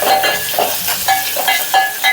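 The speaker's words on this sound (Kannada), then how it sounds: "1 ಈರುಳ್ಳಿ ಸೇರಿಸಿ ಚೆನ್ನಾಗಿ ಮಾಗಿಸ್ಕೋಬೇಕು" Onion with cumin and curry leaves sautéing in a pan, loud close sizzling broken by a regular rhythm of spoon stirs and scrapes, with no talking.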